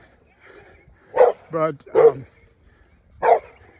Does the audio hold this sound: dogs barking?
yes